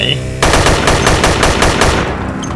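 Rapid automatic gunfire in the zombie video game Dead Effect 2 rattles in a dense burst, loud and close, with a sharp onset and steady rapid-fire rhythm for a couple of seconds.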